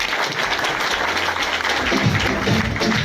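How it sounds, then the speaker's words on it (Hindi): Strong, continuous audience applause at a motivational business seminar, a dense roar of many hands clapping, with a low musical tone entering partway through. "ताली बजाइएगा।"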